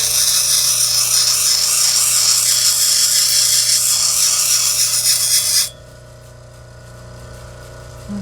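An aventurine stone is ground on a lapidary wheel, a loud, steady, close hissing grind that cuts off abruptly near the end and leaves only a quieter motor hum.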